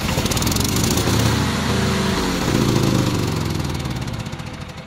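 A remote-controlled lawn mower from a Chinese factory runs its engine steadily, a loud, continuous mid-pitched droning rumble that holds through and eases slightly at the end, with no voices.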